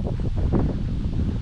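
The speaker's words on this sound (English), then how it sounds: "sorry if it's windy" Wind gusts buffet the microphone outdoors beside a pond, a close, rough low rumble with rustling that swells and eases over a second or so.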